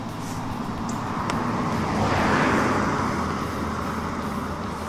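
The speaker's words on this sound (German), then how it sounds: "Kommt wieder ein Auto." A car passing on a road near Belfeld, a broad swelling roadway whoosh that builds to a peak midway and fades again, steady and moderately close, heard alone without talk.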